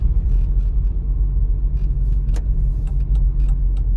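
A car on a road during a driving exam produces a low, steady engine and tyre rumble from inside the cabin, with a few faint clicks and small rattles on top, no talking.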